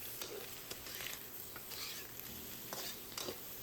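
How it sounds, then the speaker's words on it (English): Ingredients for chow mein are stir fried in a pan with cooking oil: a faint, even sizzle broken by several short scraping clatters of a utensil, with no talking. "And stir fry for another minute also."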